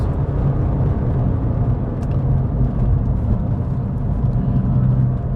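A Porsche 911 996 C4S idles with its exhaust flaps closed, giving a steady low, throaty rumble close by that holds even throughout, no talking.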